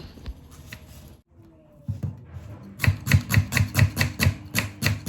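Knife chopping onions into large pieces on a board, a steady run of about ten close, rhythmic chops after some quieter handling sounds.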